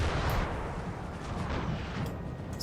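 Artillery fire rumbles in the Napoleon: Total War battle, a dense, continuous low roar of cannon blasts with a few sharper reports standing out, heard at moderate distance with no voices.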